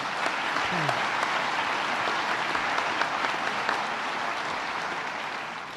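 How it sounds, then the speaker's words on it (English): Audience applause for Albany's mayor, Kathy Sheehan, at a government economic development announcement: steady, dense clapping from a large indoor crowd sustained throughout, with a brief voice near the start. "That's really nice applause for the mayor."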